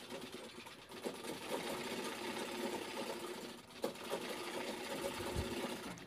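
A sewing machine runs steadily while stitching a strip of lehenga fabric, a close, continuous whirring hum with a rapid needle clatter and slight speed changes.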